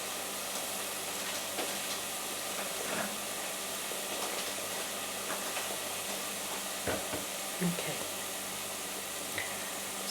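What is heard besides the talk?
onions frying in a pan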